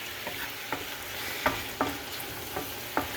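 Onion fries in a pan while being turned, a continuous close sizzle punctuated by about six sharp utensil scrapes and clacks at a loose, uneven rhythm, with no voices.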